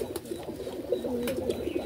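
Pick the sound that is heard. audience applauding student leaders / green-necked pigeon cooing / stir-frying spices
green-necked pigeon cooing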